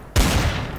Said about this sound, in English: I put 3 shots and normally it's a 2-shot kill